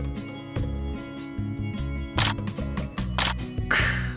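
A Samsung Galaxy phone camera fires two sharp shutter clicks about a second apart, crisp and close, over soft background music.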